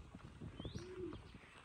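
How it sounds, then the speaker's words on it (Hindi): Pigeons cooing softly on a breezy rooftop after rain, a low sustained coo with faint chirps over steady wind noise, fairly quiet and somewhat distant. "हमारे कबूतर देखें यहाँ पर खेल रहे हैं"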